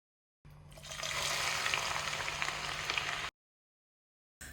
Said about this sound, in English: I'm done frying my chicken